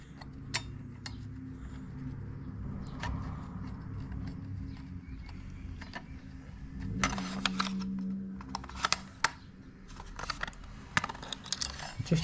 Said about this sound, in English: Just trying to get the screws in their position without pushing them all the way in.